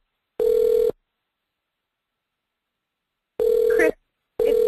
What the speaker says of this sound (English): that's Minnie's phone, so there we go